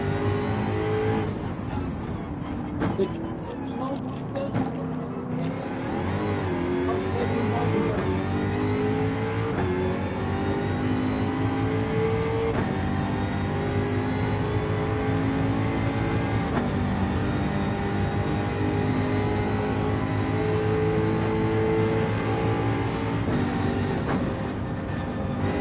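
A Jaguar F-Type GR3 race car engine in Gran Turismo 7 drones loud and continuous, its pitch rising and falling through gear changes and revs for the whole stretch.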